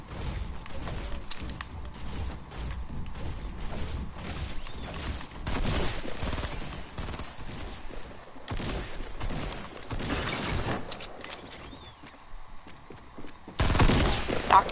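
Burst rifle gunfire in Fortnite, dense bursts of shots and impacts running through the whole stretch, with a louder flurry near the end amid busy game noise.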